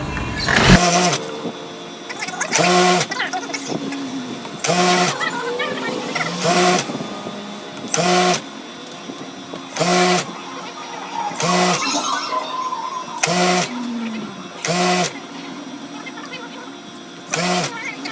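A sewing machine stitches tape along a wave curtain, its motor running in short regular bursts about every second or so, with brief pauses between runs over a steady room background.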